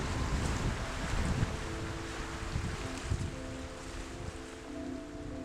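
Steady wind roars across an exposed lakeside point, with broadband gusts rising and falling and no voices.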